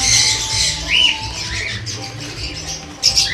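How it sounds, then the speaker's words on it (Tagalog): Cockatiels in a breeding cage give several shrill squawks and chirps, close and fairly loud over a low background hum. "So, ito yung mga lumang breeder natin ng kakatail."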